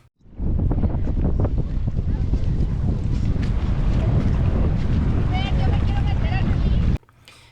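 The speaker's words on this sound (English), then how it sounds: "it looks like the wind has picked up, making the crossing an interesting one." Strong wind buffets the microphone on a floating bridge at Xel-Ha Park in Mexico, a loud steady roar with water sloshing beneath, cutting off abruptly near the end.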